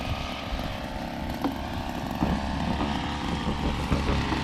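A grass cutter runs outdoors near a vegetable garden, its engine a steady, fairly loud drone that holds throughout without pause.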